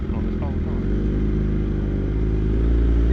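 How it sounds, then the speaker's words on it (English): A motorcycle accelerates hard and spins its rear wheel after overtaking a van on the road, making a loud, steady engine drone that swells slightly toward the end, close by. "He just overtook a van and he was wheel spinning off."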